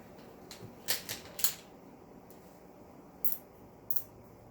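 Zip ties being pulled tight around a snowflake craft make a scattered series of short, crisp ratcheting clicks, several close together and then a few more after a pause, faint and close by.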